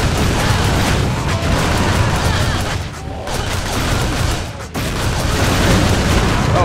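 Grenades exploding in the Shank 2 co-op game's bombed church level: a dense, loud barrage of booming blasts that runs almost continuously, with brief dips before the explosions resume.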